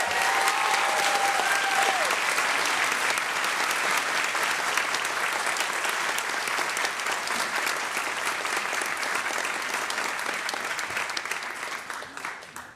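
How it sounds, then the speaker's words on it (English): A graduation ceremony crowd gives the graduates one final applause, sustained loud clapping from a large audience with a brief whistle early on, tapering off near the end. "Let's give them one final applause."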